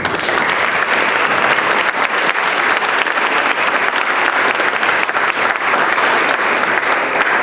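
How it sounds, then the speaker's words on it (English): Loud, sustained applause from a banquet crowd at a residency graduation dinner, dense clapping continuing evenly from start to finish. "You certainly deserve the credit and a round of applause."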